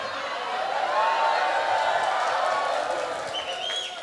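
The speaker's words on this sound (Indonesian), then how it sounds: "Ngono ya tepuk tangan." An audience at an Islamic religious lecture in Indonesia breaks into sustained clapping and crowd noise, a dense, even wash of applause that holds for several seconds.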